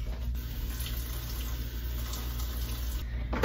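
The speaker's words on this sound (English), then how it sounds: "so I just keep this water bottle and refill it." Kitchen tap running steadily into a water bottle being refilled, a continuous close hiss of flowing water with a constant high whine overhead, no speech.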